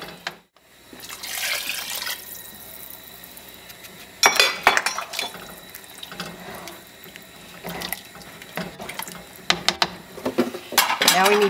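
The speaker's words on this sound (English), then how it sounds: "So I'm going to add a little more water." Water is poured into a soup pot of ham and corn chowder in a home kitchen, a close splashing stream broken by clanks and handling noises, with louder spurts toward the end.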